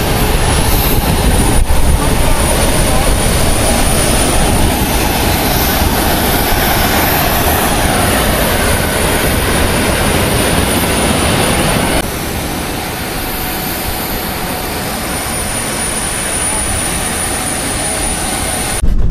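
A Ryanair airliner's jet engines roar as a loud, constant broadband drone inside the cabin in flight, stepping down slightly in level partway through, with no one speaking.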